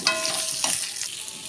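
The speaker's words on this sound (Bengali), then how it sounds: "আলুগুলোও একটু ভালো করে ভেজে নেব" Potato pieces and lentil dumplings sizzle in hot oil in a pan while being stirred, giving a brief, close crackling hiss with a few scraping stirs.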